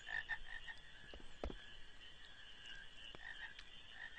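Frogs croak in a Final Fantasy IX game scene, steady ambient chirping calls repeating over a droning background, fairly quiet with a couple of sharper knocks, no talking.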